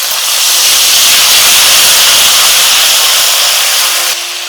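Ginger paste hits hot oil in a pan with salt while cooking dhokar dalna, giving a loud, steady sizzle and hiss that runs evenly for several seconds, then eases slightly at the end.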